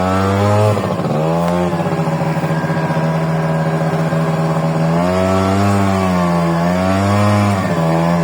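A Honda Dio 27 scooter engine drones loudly and close while riding off-road on a slippery dirt track, holding a steady buzzing note with small swells of throttle and no talk over it.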